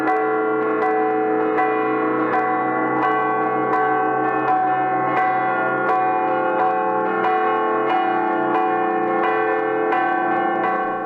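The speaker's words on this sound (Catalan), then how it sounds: "Així començaven a repicar les campanes de la Catedral de Girona el dijous 21 de març" Bells of Girona Cathedral ring out in a steady, repeated peal, rich overlapping strikes sounding clearly and loudly with no talk over them.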